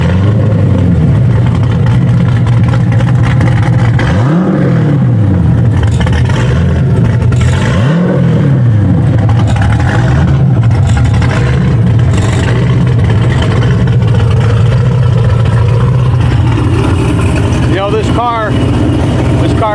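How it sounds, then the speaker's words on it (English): Chevrolet Corvette C6 Z06 V8 exhaust roaring loudly and steadily, with several sharp revs rising and falling over a deep rumbling idle, a closer burst of rapid revving near the end. "Exhaust note."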